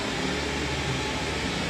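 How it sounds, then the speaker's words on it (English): A steady, even broadband hiss of test noise, constant in level throughout with a slightly darker, fuller tone than white noise. "this is pink noise"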